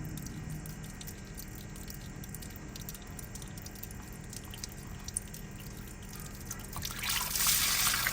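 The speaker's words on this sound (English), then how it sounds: "So that will drain out your sprayer." Water trickles out of the filter housing on a 55-gallon three-point tractor sprayer after a turn knob is opened, a steady faint dribble that grows louder and splashier near the end.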